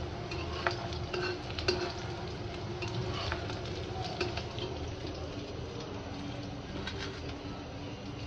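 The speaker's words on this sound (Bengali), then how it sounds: "আলুর চপটা ভেজে নিচ্ছি।" Potato chops (aloo chop) fry in oil over a low gas flame, a continuous soft sizzle with occasional crackles and stirring clinks, close by, with faint bird coos in the background.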